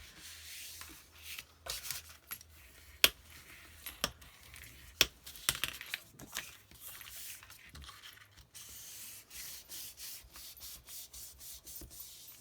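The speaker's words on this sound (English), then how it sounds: "And then I flip it over and burnish." Paper is burnished by hand while making a folio mini album, giving soft rhythmic rubbing strokes and faint scraping with a few sharp taps, quiet and close.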